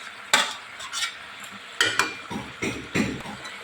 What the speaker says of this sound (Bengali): এবারে সুন্দর করে মশলাটা আমি কষিয়ে নেব।